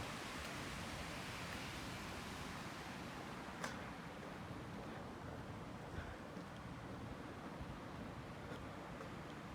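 Water circulates continuously through a downtown Vancouver water feature at night, a faint, steady wash of splashing and flowing water with a few soft clicks over the top.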